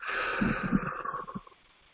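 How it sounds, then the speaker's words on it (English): A single breath out, airy and slightly wheezy, close to the listener, tapering off into quiet. "Breathing out."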